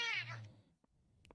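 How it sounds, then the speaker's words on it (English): One clear cat meow, close and fairly loud, falling in pitch, followed by faint scattered clicks and small noises. "like my favorite cat noise"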